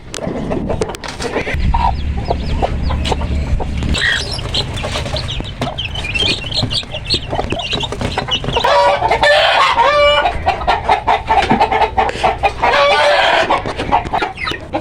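Chickens cluck busily and a rooster crows loudly and close by, with repeated calls layered over the continuous clucking of the flock.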